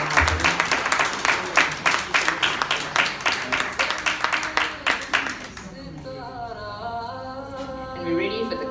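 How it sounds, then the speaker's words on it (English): Wedding guests applaud in a dense burst of clapping for about five seconds. The clapping then fades under music and voices. "can we please give a round of applause to the 3 lovely ladies who made this day happen."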